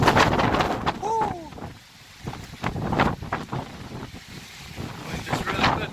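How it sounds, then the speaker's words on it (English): Strong wind blowing across an exposed mountain ridge, loud gusty roar buffeting the microphone throughout, easing briefly in the middle, while a person talks and whoops over it. "this wind is really whipping"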